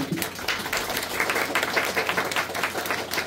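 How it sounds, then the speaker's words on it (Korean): An audience at a cinema film talk with director Bong Joon-ho breaks into dense, continuous applause, many hands clapping at moderate distance with no pause. "여러분 박수."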